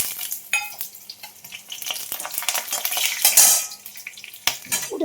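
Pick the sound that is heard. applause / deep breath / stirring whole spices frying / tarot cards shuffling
stirring whole spices frying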